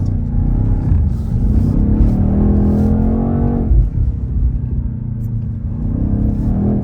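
A BMW XM being driven in a drift: a loud, close engine drones and revs continuously, its pitch climbing and dropping sharply about halfway through before settling into a steady, heavy rumble.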